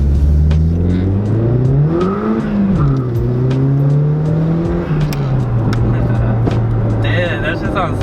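Car accelerating hard on a pass and shifting gears, loud close engine roar with the pitch climbing, dipping at a shift and climbing again, with talk over it.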